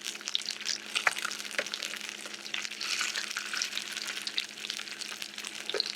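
Gurnard fish fillet frying skin-side down in a hot pan, a steady close crackling sizzle with scattered sharp pops and spits throughout.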